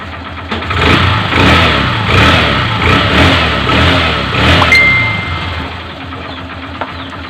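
An overhauled Honda CB125 motorcycle engine idles roughly and is revved in several quick bursts before settling back down, close and loud, with no talking.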